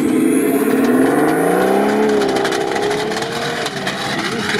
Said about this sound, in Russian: Слышь, как мотор работает.